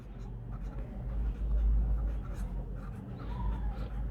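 Pen or chalk writing out a maths problem, producing soft, continuous scratchy strokes over a loud low rumble, close and fairly faint.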